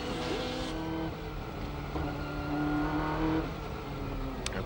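Onboard a Nissan Skyline GT-R race car, car number 22, at the 1995 Le Mans 24 Hours, the engine droning loudly and continuously with shifting revs and gear changes inside the cockpit.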